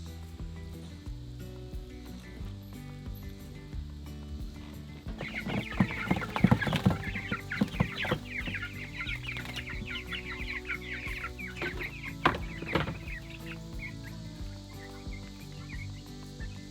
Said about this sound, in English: we're gonna go ahead and grab the chickens and move them